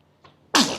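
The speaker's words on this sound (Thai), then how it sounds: "นี่จามซุย" A single sharp human sneeze, heard from a child who is unwell, with a soft intake of breath before the loud burst.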